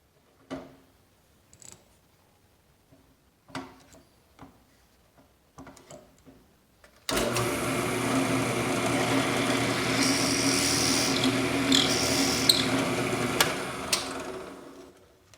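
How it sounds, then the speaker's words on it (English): A drill press bores into a cherry wood coffee scoop with a sustained, steady whine and grinding roar lasting several seconds, loud and close. Scattered knocks and handling clatter come before it. "we're going to go back to the drill press and drill out just a little bit more"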